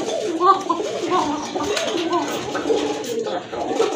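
A breeding pair of Gobindo Koka pigeons coos close by, a run of soft, throaty rolling calls repeated several times, with a voice talking alongside.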